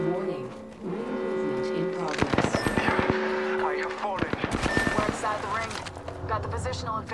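Apex Legends gunfire crackles in two dense automatic bursts, loud and close, with sharp single reports between them, while voices talk over the battle.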